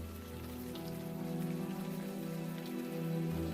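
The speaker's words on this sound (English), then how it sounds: "Well, what a rainy night indeed." Steady rain pours on a rainy night in the video game Unavowed, a dense, even hiss running without pause from start to finish, with no voices over it.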